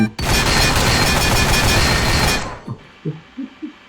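Turret gunfire in the Roblox game Pressure, set in an underwater research facility: a dense, loud burst of rapid shots for about two seconds, then a few separate thuds as it stops.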